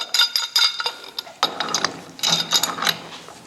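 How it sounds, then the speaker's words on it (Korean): Steel pipe fitting being tightened with a pipe wrench: a close series of rapid ratcheting clicks and metallic grinding in short bursts, with a brief pause near the middle, no talk. "방향만 생각하고 누설 안 될 정도로만 바이프렌치로 쭉 조여 주시면 될 것 같아요"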